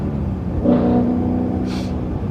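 BMW E92 M3 engine while driving slowly through a neighborhood: a steady low rumble swells briefly around a shift, then settles back into a smooth, continuous drone with no talk.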